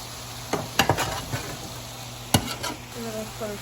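Chicken seekh kabab frying with onions in a pan, a soft sizzle under a few scattered spatula scrapes and taps, close but quiet.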